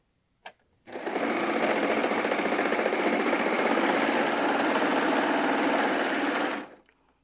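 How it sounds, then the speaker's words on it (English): A sewing machine stitches steadily through very thick denim. The close, loud mechanical whir runs for about six seconds after a single click, then stops. "if you're sewing through denim here, this is a really thick denim, so it'll sew right through it for you."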